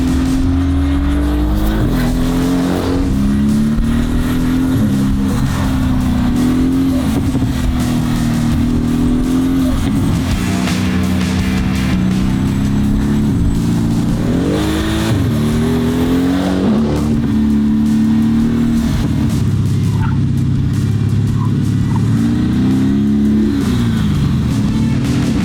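A 1200 hp Mercedes-AMG build engine runs loud and close, with a continuous deep drone that rises and falls through repeated revs and pulls at partial throttle for the whole stretch.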